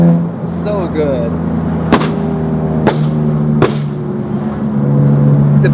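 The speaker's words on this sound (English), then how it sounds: "The pops on BMWs are just next level." A tuned BMW F87 M2 Competition idles nearby with a deep, throbbing exhaust, broken by three sharp, loud pops spaced about a second apart, while people talk over it.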